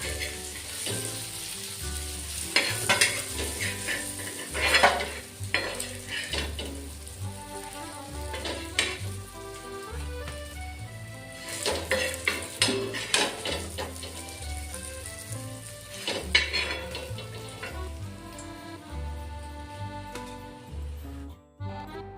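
Surmai fish slices fry in hot oil in a pan, a steady close crackle and sizzle with bursts of louder spattering throughout and no voices.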